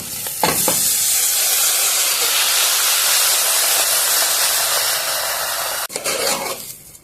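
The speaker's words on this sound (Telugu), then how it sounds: "కొద్దిసేపు నూనెలో వేయించుదాము బియ్యాన్ని కూడా." Soaked plain rice frying in hot oil with ginger and garlic over high heat, a steady loud sizzle and hiss that is briefly broken by stirring near the end.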